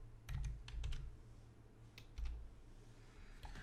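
Keys tapped on a computer keyboard in short clustered bursts, close and crisp against a faint hum, with brief pauses between groups of strokes and no talking.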